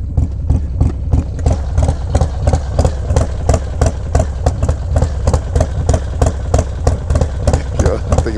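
A motorcycle with a broken TBR exhaust idling close by, loud and steady, its rough pulsing thump repeating evenly through the whole stretch.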